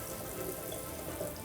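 Water runs steadily from a hot-and-cold tap in a bathroom sink inside a new army bunker, a continuous hiss with no break.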